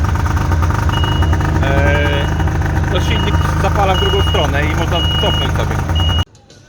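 A vehicle engine, started with a push button in a Norwegian workshop, runs at a loud, steady idle with a low rumble and intermittent beeps and tones over it. It cuts off abruptly near the end.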